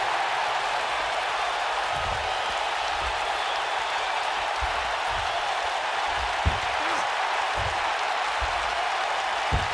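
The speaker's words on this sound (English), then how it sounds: "We've got a raucous crowd here in Philadelphia tonight" A continuous wash of arena crowd noise at a Philadelphia wrestling event in the game WWE 2K19, a steady broad roar with scattered low thumps and a couple of sharp impacts beneath it.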